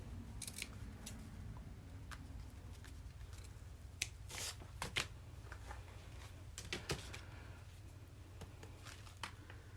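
Scissors cutting paper for a handmade journal, close, quiet snips and crisp paper crackles in an irregular series against a low background hum.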